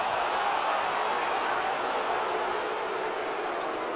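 A packed basketball arena crowd at a college game roars against the officials in a steady, dense wash of noise throughout.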